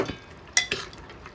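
Green val beans (pavta) stirred in a pan as the vegetable cooks, a few soft scraping and clinking strokes of a spoon against the pot, close and quiet, with no talking.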